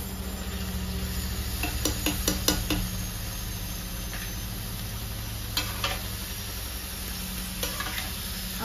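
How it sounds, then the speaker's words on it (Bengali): Potatoes poured into a hot pan and frying, a steady close sizzle with a few sharp metallic scrapes and stirring clatters from a utensil against the pan. "তারপর আলুটা ঢেলে দিই।"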